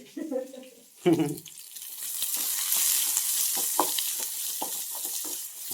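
Ginger and garlic sauté in a pan with a steady, hissing sizzle and intermittent stirring scrapes, after a brief voice and a clatter at the start.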